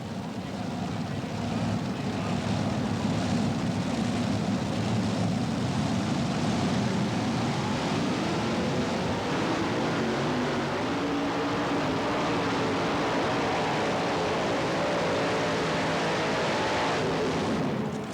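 A pulling tractor's engine roars continuously at a tractor pull event, a loud sustained drone with rising and shifting pitch as it drives a full pull to the sandbank, filling the whole stretch without a break.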